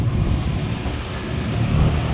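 Motorcycle riding through busy Kampala traffic, a continuous low rumbling engine and road noise that swells and dips slightly, with no talking over it.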